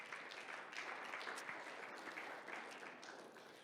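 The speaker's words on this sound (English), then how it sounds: "So give yourself a round of applause for that" Steady applause from a conference audience at a soil and food event, a dense wash of many hands clapping that holds at an even, moderate level for several seconds.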